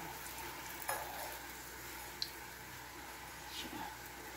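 Spinach, moringa and carrot egg rolls fry in a pan until brown, a steady low sizzle with a few small clinks of a utensil against the pan. Background noise sits under it.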